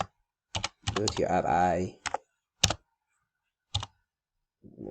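Computer keyboard typing while coding in a database integration tool: a few close, crisp key clicks in short bursts, with a brief stretch of someone talking in between.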